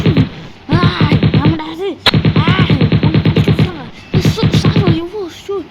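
Rapid bursts of gunfire from the video game Chicken Gun, repeated in several fast volleys of shots, loud and close, with a player talking over and between them.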